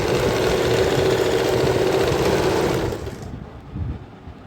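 A sewing machine stitches elastic onto a night suit pajama, its loud, steady mechanical whirr lasting about three seconds before it slows and stops, leaving a few quieter handling sounds.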